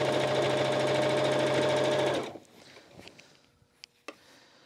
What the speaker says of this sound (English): I pull from the back as I sew from the front.